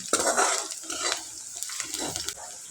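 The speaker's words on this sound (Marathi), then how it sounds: "कांदा चांगला परतून घ्यायचा आहे" Onion fries in a pan on the stove, with a soft, steady sizzle broken by scraping spoon strokes and light clinks of metal, close and without talk.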